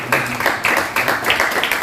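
A church congregation claps in steady, dense applause that carries on loud throughout.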